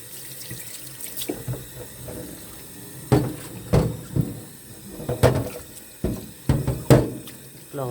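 Water from a tap splashing into a sink while a cooking utensil is rinsed, with intermittent clanks and knocks of the utensil against the basin over a running stream.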